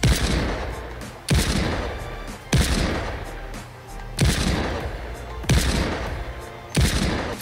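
Shotguns and machine guns firing in Fortnite, heavy blasts about once a second, each trailing into a decaying rattle, loud and close.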